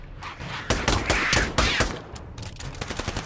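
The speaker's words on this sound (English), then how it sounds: "This is a fun pistol." Pistol shots ring out in the VR shooter Pavlov during a spooky zombie game mode, a quick cluster of sharp close bangs followed by scattered fainter pops.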